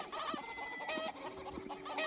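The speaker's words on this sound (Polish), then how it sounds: "Uwaga, bo ta kura zabija." A chicken in the video game Postal 2 clucks repeatedly in short bursts, close and clear, over a busy in-game background with no talking.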